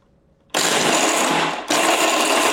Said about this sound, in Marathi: आता याची पूड तयार करून घ्यायची